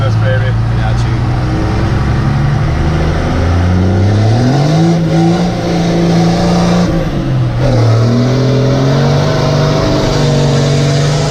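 A 100hp automatic car accelerates on a road, its engine note rising and falling as it shifts up through the gears. The engine is loud and close throughout, with no talk over it.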